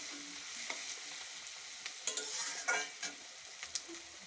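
Onion frying with garlic-ginger paste in a pan, a soft, steady sizzle with irregular scrapes and clinks from stirring, fairly quiet and close, no voices.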